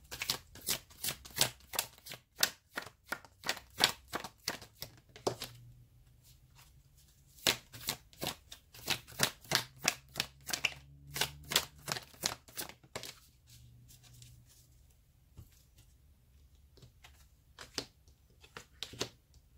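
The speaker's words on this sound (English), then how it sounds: "I'm just getting some energy oracle now." Rapid riffling and flicking of an oracle card deck being shuffled close up, in quick bursts of crisp snaps with short pauses between runs, no talking.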